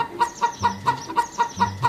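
A hen clucks in a quick, even series of about eight sharp, close notes, loud and alone.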